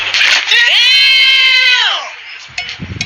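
A loud, drawn-out cat meow with a rising then falling pitch, close by, followed by a brief rustle at the end.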